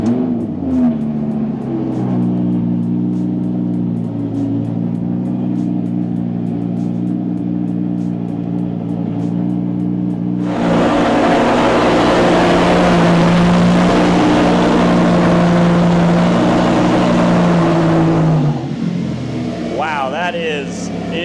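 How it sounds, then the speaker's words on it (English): A Lamborghini Gallardo engine idles with a deep, loud exhaust drone, then revs harder into a louder, raspier roar before settling back down. "So now let's go ahead, fire up the car, see what we got to work with."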